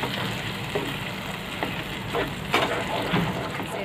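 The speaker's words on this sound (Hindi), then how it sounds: "इसको धीमे आंच पे अच्छे से पका लेना है, लगातार चलाते हुए।" Chilli chicken sauce thickened with cornflour slurry simmers on a low flame, giving a steady close sizzle and bubbling, with occasional soft scrapes from continuous stirring.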